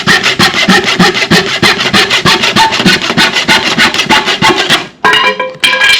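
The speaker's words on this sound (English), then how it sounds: "We have a small handsaw and a chisel." A small handsaw cutting wood with steady, rhythmic back-and-forth strokes, close and loud, followed by a brief pause and a few sharper chisel scrapes on the wood.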